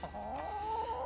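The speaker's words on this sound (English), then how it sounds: "Better give you a little chicken show." A backyard chicken gives a drawn-out, wavering cluck close by, one continuous call lasting about a second with nobody talking.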